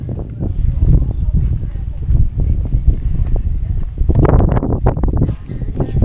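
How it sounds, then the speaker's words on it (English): Strong gusts buffet the microphone on a walkabout through a medieval castle village, a continuous low rumbling roar that swells and dips throughout, with a person talking beneath it. "It's very, very windy, so I do apologise."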